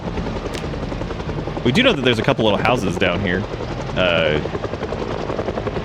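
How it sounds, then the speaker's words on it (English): A helicopter in the zombie survival video game Project Zomboid drones steadily in the background with a constant engine hum, while someone talks over it. "Dude, one of these days, the helicopter will stop."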